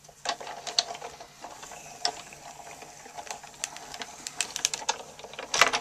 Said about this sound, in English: put that inside our trellis embossing folder, and we will run that through